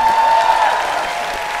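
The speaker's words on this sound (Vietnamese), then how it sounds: "Xin cho một tràng vỗ tay." Audience applause from a Vietnamese showbiz TV show, a steady broadband clapping wash that holds loud and even, then eases slightly, with no talking over it.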